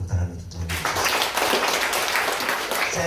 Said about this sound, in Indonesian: Sekali lagi berikan tepuk tangan untuk Tuhan.